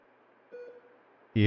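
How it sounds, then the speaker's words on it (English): A faint electronic beep from medical devices in the Wuthering Waves video game, a short steady tone sounding for a moment over quiet background ambience, cut off by a louder burst at the end. "You hear the beep?"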